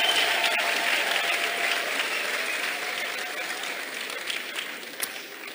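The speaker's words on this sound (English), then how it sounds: "Let's clap for God." A church congregation claps as a member is called forward, a loud, dense wave of applause that gradually fades over a few seconds.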